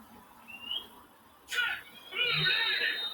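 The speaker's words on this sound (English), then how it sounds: "Now whistles come in before the snap." Referee whistles in the Madden 19 football video game, a brief thin whistle followed by two sharper, louder shrill blasts amid faint crowd ambience before the snap.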